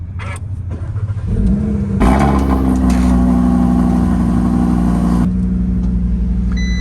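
An Audi RS3 engine cranks and fires at about two seconds, flaring up loud and close before settling into a steady, rumbling idle that carries through to the end.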